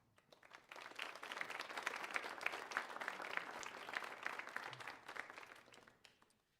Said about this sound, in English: students, I would like you to give your directors a nice round of applause for getting you here today